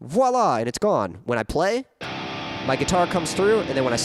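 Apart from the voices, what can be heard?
No everyday noises stand out.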